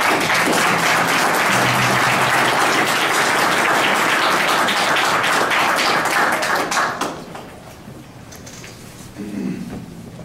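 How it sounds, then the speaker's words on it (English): Loud, dense applause from a city council meeting audience honoring a boys' golf team, sustained for about seven seconds before fading to a murmur of the room. "give these young men one more round of applause."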